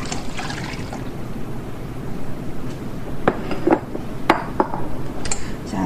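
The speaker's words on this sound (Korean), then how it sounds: "색깔과 농도를 맞춰주신 국물을 냄비에 부어주시고요." Pear broth, sweetened and adjusted for colour and thickness, poured into a pot for Korean steamed pears, giving a steady splashing pour with a few clinks of metal and glass.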